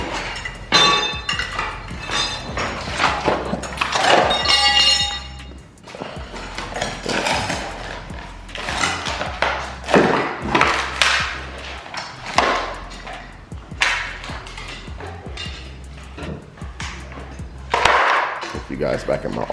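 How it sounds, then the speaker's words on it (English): Trim being torn up from around a bathtub during a bathroom demolition, with repeated loud cracking, scraping and clanking bursts at close range and a voice talking over parts of it. "He's tearing all the trimming up from around the tub."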